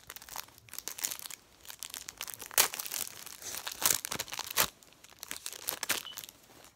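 Foil trading card pack crinkling and tearing open up close, with irregular bursts of crackling and sharp rips over several seconds.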